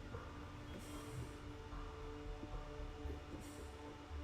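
A train rolls along in the Zompiercer zombie game with a steady rumbling clatter of wheels on rails and a couple of brief hissing bursts, moderately loud and without talk.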